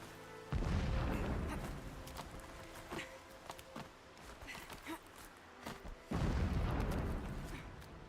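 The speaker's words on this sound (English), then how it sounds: "Explosions in the distance." Distant explosions in the video game Horizon Zero Dawn: two long, heavy rumbling booms, one opening near the start and one near the end, with scattered thuds and crackles between them.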